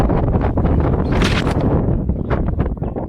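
Strong wind gusting at the Nadabet border area, a loud, continuous buffeting roar with rising and falling gusts across the whole moment.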